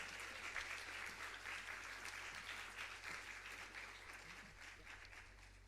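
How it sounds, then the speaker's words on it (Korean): Church congregation applauding to welcome two pastors at a Sunday young-adults worship service, a dense, steady clapping crowd that fills the room continuously and evenly from start to finish. "우리 박수로 모니카 게테 목사님, 김경민 목사님 모시도록 하겠습니다."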